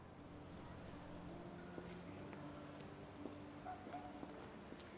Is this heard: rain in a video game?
yes